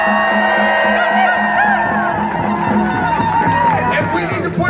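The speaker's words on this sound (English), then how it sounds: "give her a round of applause" Rally crowd at a Seattle protest against the Dakota Access Pipeline, cheering, whooping and applauding together in a dense, loud wash of voices and claps that holds steady throughout.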